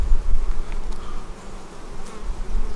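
Honey bees swarm around an agitated, hot beehive during fall feeding, making a dense, loud, continuous buzz close by with no pauses.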